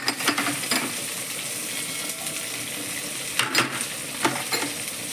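Onion and capsicum frying in a pan for spicy veg pasta: a steady broadband sizzle runs throughout, broken by a few brief stirring scrapes and clicks, close and moderately loud with no voices.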